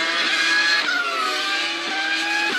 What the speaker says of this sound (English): Back out on the circuit, and Coulthard was able to pull away from Barrichello's Ferrari.